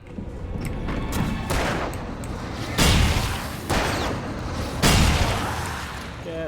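Shotgun blasts in the Alan Wake game, three heavy booming shots roughly a second or two apart over a dense, noisy combat backdrop, loud and close.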